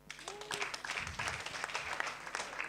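Audience applause for a stand-up comedian, a continuous spread of clapping at moderate level with a brief voice at the start.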